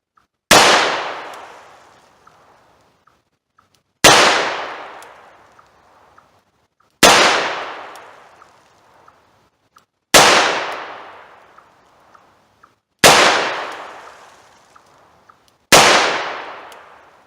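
Six sharp revolver shots fired one at a time at a paper target about six yards away, using wadcutter rounds, each crack decaying quickly before a pause of roughly three seconds.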